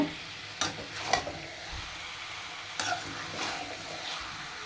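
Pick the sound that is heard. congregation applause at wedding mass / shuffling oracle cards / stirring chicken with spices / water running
stirring chicken with spices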